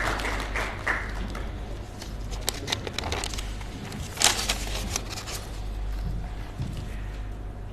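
Audience in a hall at an Urdu literary gathering claps for a state award. The applause is moderate and continuous, with scattered sharper claps and one louder burst midway, and no speech over it.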